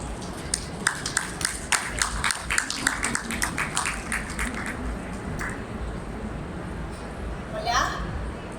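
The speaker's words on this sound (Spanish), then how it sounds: "La recibimos con un fuerte aplauso, por favor." An audience at a food-industry expo talk claps to welcome a speaker. The applause is brisk at first and thins out after a few seconds into murmuring and room noise.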